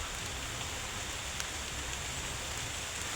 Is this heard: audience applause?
no